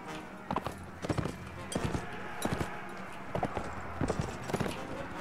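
Horse hooves clip-clop in the medieval combat game Mount & Blade: Warband, a steady run of clear, fairly close hoofbeats in a regular walking rhythm over a dense background hum.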